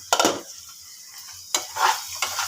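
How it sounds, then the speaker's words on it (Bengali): Spice paste and potatoes fry in a covered pan, giving a steady low sizzle with a few louder scrapes and stirring clatters from a utensil against the pan. "মশলাটা একটু কষুক আর আলুটা সিদ্ধ হয়ে যাক"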